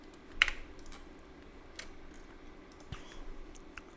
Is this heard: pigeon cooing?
no